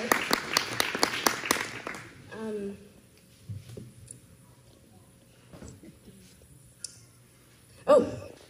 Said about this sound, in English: So big round of applause there.